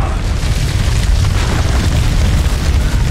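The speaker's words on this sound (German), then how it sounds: "Granate!" A grenade explodes in House of Ashes, producing a loud, deep, continuous rumbling roar that fills the entire few seconds with no clear break and no voices.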